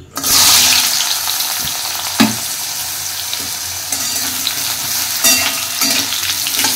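Sweet potato and potato pieces sizzle in hot mustard oil, a loud continuous frying hiss with a few louder crackles and stirring bumps, no voices present.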